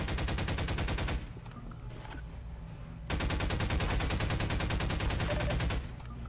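Rapid automatic gunfire in the shooter game Half-Life 2, two long loud bursts of fast, evenly spaced shots, with a brief lull of quieter game noise between them, close and dominant with no talking.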